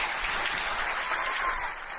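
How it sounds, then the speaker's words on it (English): Crowd celebrating over a new vaccine, heard as continuous clapping and cheering through a played video, moderately loud with a slightly muffled, distant character that fades a little toward the end. "And here they are cheering."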